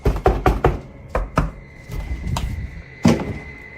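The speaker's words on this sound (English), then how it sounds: "this time with some annoying and incessant knocking" Sharp, loud knocks on wood, said to come from a poltergeist, land in irregular bursts: a quick cluster of four, a pair, a few softer ones, then one last hard rap, with no talking.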